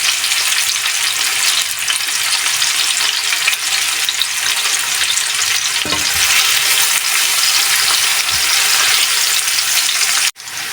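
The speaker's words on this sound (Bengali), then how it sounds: "পেঁয়াজটা আমি ব্রাউন কালার করে ভেজে নেব।" Medium onion, chopped, browning in hot oil in a pan for a fish and pointed gourd curry, a loud continuous sizzle with occasional stirring scrapes, no voices.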